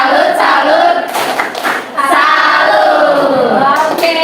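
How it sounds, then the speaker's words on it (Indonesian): Group of participants clapping a rhythmic 'tepuk salut' cheer together during a teacher's coaching session, loud and close, broken by a few sharper thuds and brief pauses. "ayo kita menyemangati diri kita semua dengan tepuk salut"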